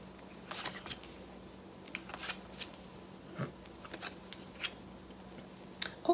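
Tarot cards are flipped over one by one, producing faint, sparse papery snaps and light taps at irregular intervals against a quiet background, with no speech.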